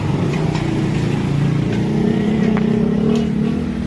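A tractor pulling a sugarcane trolley strains to climb out of deep mud in a village, its engine droning loud and steady with a slight rise in pitch, heard close with no talk.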